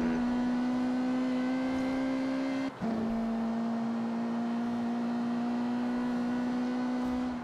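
Steady, fairly quiet engine drone of a Ferrari 458 Spider in the Need for Speed Rivals racing game, holding one pitch with a brief dip partway through.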